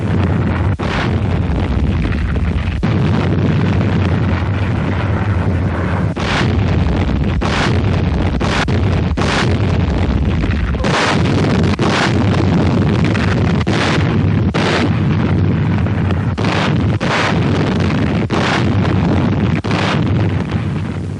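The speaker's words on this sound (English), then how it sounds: "The Navy shelled the target island of Beisho on D-Day morning for only 3 hours before the landing." Heavy naval bombardment of a Pacific island during a WWII landing, with repeated loud booming blasts at irregular intervals over a constant roaring, wind-like rumble.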